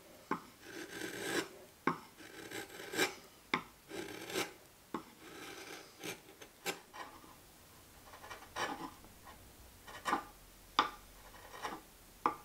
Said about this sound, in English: then I sanded the sharp edges off.